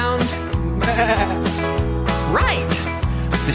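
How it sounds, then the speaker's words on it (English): Sheep bleat repeatedly over a steady musical backing, several loud wavering calls following one another without pause. "Right, the sheep go"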